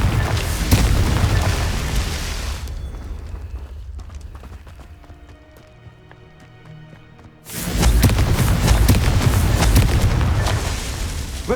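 Heavy booming blasts from the Confringo fire spell in the game Hogwarts Legacy, loud dense rumbling explosions that drop away to a quieter stretch of game sounds, then erupt again.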